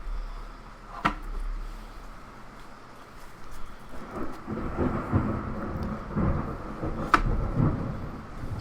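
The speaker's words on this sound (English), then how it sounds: "Storm is nuts right now." A thunderstorm outdoors carries steady rain with sharp thunder cracks, one early and another near the end, and rumbling swells between them, moderately distant and with no voices.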